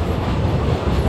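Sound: train ride to Machu Picchu

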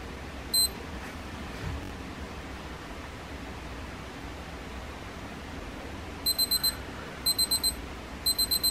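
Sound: desk lamp alarm beeping

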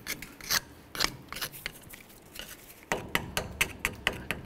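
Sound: cleaning rust from Chevy Silverado wheel hub area

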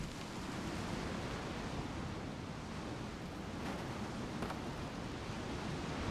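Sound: strong wind in video game Tyranny

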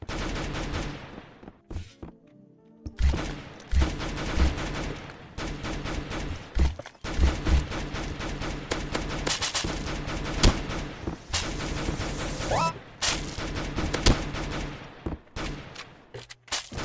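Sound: gunfire from a gun in the video game Banana Shooter

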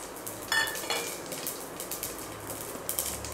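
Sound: whole spices added to hot ghee, tempering for pulao

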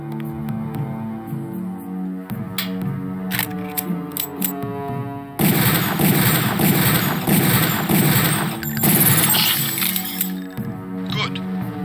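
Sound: pistol shots at a training target in video game Deus Ex

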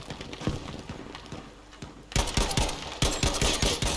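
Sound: gunfire sound in the video game Battlefield V

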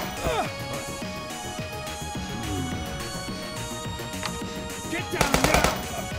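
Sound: gunfire in the video game Police Stories

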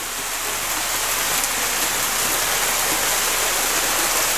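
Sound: rain dripping

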